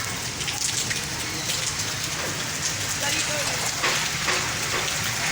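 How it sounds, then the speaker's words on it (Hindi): Heavy rain pours down on a street in Karachi, a steady dense hiss of drops drumming the surface with no break, loud and close throughout. "अभी भी बारिश हो रही है।"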